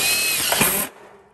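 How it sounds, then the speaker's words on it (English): A power drill drives a screw in one loud, close, high-pitched whirring burst of just under a second, then cuts off abruptly into quiet. "So I'm gonna shoot a screw right here."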